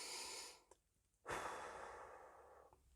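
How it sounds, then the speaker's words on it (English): Slow, deep breathing done as a calming exercise while driving: a long soft exhale, a quiet pause, then a longer drawn breath fading out, fairly faint with no talk. "focus on trying to keep your breathing this sort of length"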